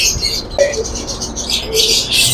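Caged fancy and imported birds in a bird shop in Multan chirp and tweet close by, short bright calls repeating over a steady room hum.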